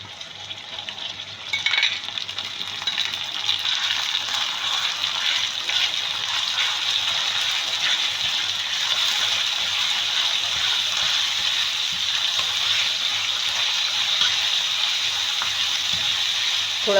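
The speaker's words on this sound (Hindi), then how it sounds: "थोड़ा सा कीमा भूनता है" Minced keema sizzles steadily in a hot pan, a continuous bright hiss of frying with faint stirring scrapes, alone and without talk.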